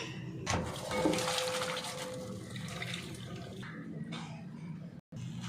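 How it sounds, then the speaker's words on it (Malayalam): Cooking water from boiled lentils pours out into a sink, a loud rushing, splashing stream with brief clatters of a pot, breaking off sharply near the end. "ഇതിന്റെ വെള്ളം ഊറ്റിക്കളയാം."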